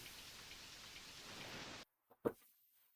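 Steady rain hissing in the SNES bass-fishing game TNN Bass Tournament of Champions, a dense even patter that cuts off abruptly, followed by a couple of short soft thumps in near silence.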